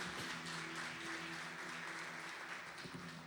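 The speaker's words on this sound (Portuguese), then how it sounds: "Louve a Jesus com palmas" Congregation clapping in praise during a Sunday morning church worship service, a steady wash of many hands sustained throughout, moderately loud with faint voices and low tones underneath.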